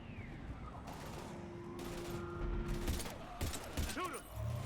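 Bursts of gunfire in the sci-fi shooter Mass Effect 3, layered with mechanical clatter and crashing effects under steady battle noise, with voices talking over the fight.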